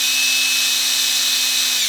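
A power drill bores into steel with a steady, loud high-pitched whine and a low motor hum, running continuously with a slight pitch drop at the end, no talking.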